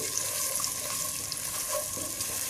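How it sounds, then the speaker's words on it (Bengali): Ginger, garlic and onion paste frying in oil gives a steady, even sizzle throughout, close and moderately loud, with no talking. "আদা রসুন পেঁয়াজ বাটাটা একটু ভেজে নিচ্ছি"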